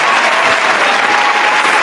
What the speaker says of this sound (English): let's get some hand claps for that.